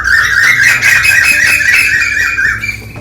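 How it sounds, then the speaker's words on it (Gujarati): An Asian koel calls from a neem tree, its loud, repeated whistling notes carrying steadily over faint background noise during a Holi celebration at home. "બહુ મસ્ત કોયલું બોલે છે અત્યારે"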